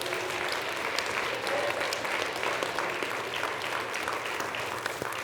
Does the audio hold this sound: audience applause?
yes